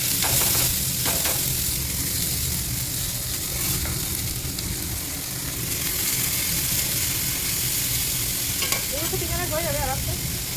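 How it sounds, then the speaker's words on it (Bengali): Bitter gourd fries in hot oil with fenugreek seeds in a wok, a steady close sizzle with frequent stirring scrapes and clatters throughout, no one speaking. "এটা ভাজবো এখন, মেথি ফোড়ন দিয়ে কড়াইতে তেল দিয়ে দিয়েছি"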